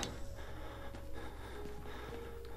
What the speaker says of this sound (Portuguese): O cara já tá ofegante, não sei porquê.